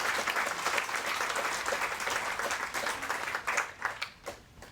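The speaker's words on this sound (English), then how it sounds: "So let's give Megan an applause." Sustained applause for an award recipient at a tennis hall of fame ceremony: a roomful of steady clapping that carries on for a few seconds and then thins out into scattered claps.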